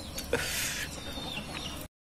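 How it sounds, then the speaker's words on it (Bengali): A hen clucking after laying an egg in a village yard, a loud, close burst of rapid excited clucks for under two seconds before cutting off. "মুরগি তো মনে হয় ডিম পারলো হয়েছে রে।"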